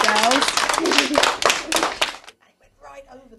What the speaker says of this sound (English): And give them a clap.